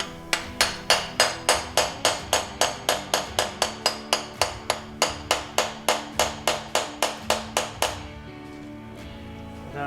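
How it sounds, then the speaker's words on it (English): Roughly thirty sharp, evenly spaced metal taps from a special angled tool knocking pistons out of a 289 engine block during teardown, close and loud, steady rhythm, stopping near the end with faint ringing. "It's got an angle on the end that allows me to slide down inside and gently tap that piston."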